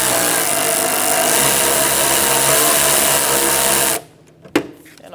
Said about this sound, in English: Now we're going to loosen up this bolt.